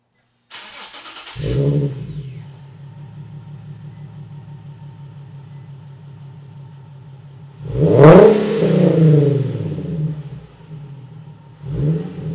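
A Nissan 370Z with an aftermarket AAM short non-resonated exhaust starts and settles into a deep, rumbling idle, then revs sharply once with a loud, throaty exhaust bark before dropping back and blipping again.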